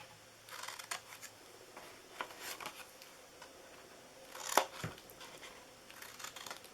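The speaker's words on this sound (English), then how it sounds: "And then on all three of these top ones, these 1/2 inch ones, I just cut into these a little bit." Scissors cutting paper card for a Santa gift box: quiet snips and rustles come close up, with one sharper cut near the middle and no talking.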